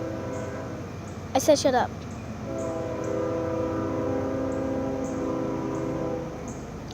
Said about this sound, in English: And shut up, train.